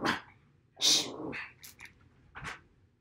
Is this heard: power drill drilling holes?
no